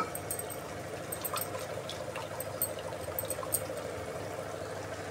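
Water poured into a simmering curry of onion, tomato and ground paste, a steady close trickle and splash running for several seconds.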